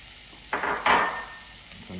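Cooked king prawns drop into a hot pan for fried rice, giving two close clattering bursts of sizzle and utensil scraping that fade into a quiet hiss.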